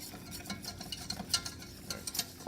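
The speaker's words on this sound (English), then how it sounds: "You gotta keep stirring or else it's gonna get really black." Flour roux for a thick béchamel being stirred in a pan, a continuous scraping swirl with light utensil taps against the pan and a faint sizzle, close and steady.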